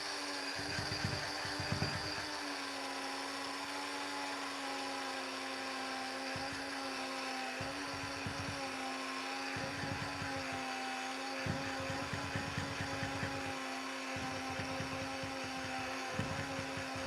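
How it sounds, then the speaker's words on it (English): A Kmart coffee grinder from Australia whirs continuously at close range, a steady high-pitched motor whine with pulsing low rumbles as the blades spin, running alone throughout. "this is just a coffee grinder from Kmart in Australia"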